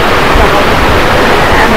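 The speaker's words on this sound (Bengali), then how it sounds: "ঝর্ণার শব্দ মানে ভেসে আসছে।" A waterfall near Ranchi rushes as a loud, dense, continuous roar of falling water, steady and close with no breaks or changes.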